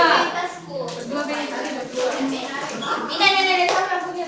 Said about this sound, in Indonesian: And when I say clap, you clap your hand.